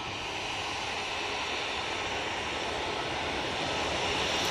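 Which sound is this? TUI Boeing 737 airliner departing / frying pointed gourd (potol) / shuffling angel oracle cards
TUI Boeing 737 airliner departing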